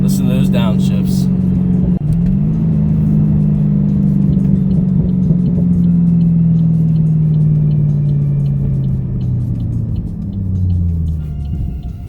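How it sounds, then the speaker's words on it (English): A 5th gen Camaro V8 drives and downshifts, a loud, close engine drone that jumps in pitch at a shift, then slowly falls as the car slows, with a brief rev near the end. "Listen to those downshifts."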